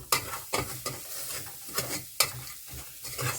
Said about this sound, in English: you have to keep stirring so that it doesn't stick before it's dry.